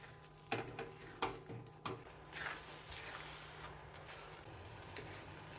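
Paan-flavoured ukadiche modak filling being stirred and sautéed in a pan over low gas, with a few distinct spoon scrapes and clinks early on over a soft steady sizzle.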